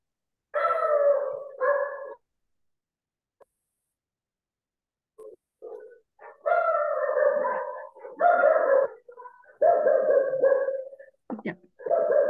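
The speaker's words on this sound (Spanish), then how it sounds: "Hasta el perrito no entendió, está reclamando que lo expliquen." A dog barking and howling nearby, drawn-out whining howls mixed with short yips and barks that come in repeated bursts with brief pauses between.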